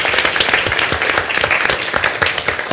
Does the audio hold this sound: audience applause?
yes